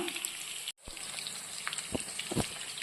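Unniyappam batter sizzles in a pan with a dense, crackling fry hiss broken by a brief dropout and a few louder spits and bubbles, close up with no talk.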